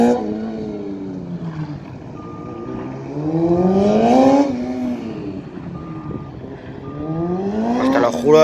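Race cars lapping the Ricardo Tormo circuit in Cheste: loud engines rising and falling in pitch as cars pass and shift, one after another, heard from trackside with a continuous roar between passes.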